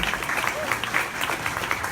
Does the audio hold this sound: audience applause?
yes